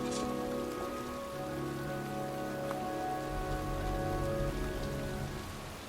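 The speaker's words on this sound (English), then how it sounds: "It's cold. It's raining. I'm standing outside getting soaked." Steady rain pours down in the Heavy Rain video game, a dense continuous hiss of drops on surfaces, close and even in level throughout, with a low musical drone beneath and no talking.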